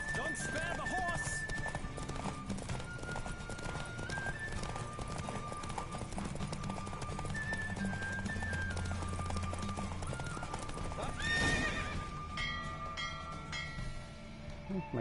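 Horse hooves galloping in a race in the video game Witcher 3, a rapid, continuous clip-clop rhythm with occasional snorts and whinnies, close and steady, under game music and some talk.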